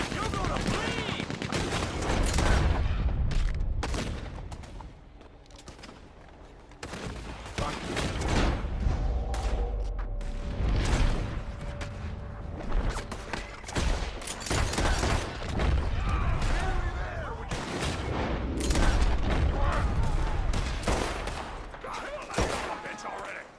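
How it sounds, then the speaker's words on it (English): Rapid gunfire bursts from a Gatling gun in the western video game Red Dead Redemption 2, loud and dense throughout amid other shots and booms, with voices shouting over the battle. "Hey, got a Gatling gun!"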